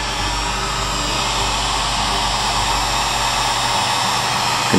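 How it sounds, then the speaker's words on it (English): A heat gun on a very low setting shrinks a capsule onto a wine bottle, producing a loud, steady, close blowing whir like a hair dryer that holds constant throughout. "And then we use a heat gun on very low settings."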